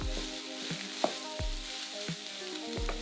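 Cabbage and carrots sizzling and sauteing in a hot pan for shrimp egg roll filling, a steady crackling hiss with several soft stirring scrapes, no voices.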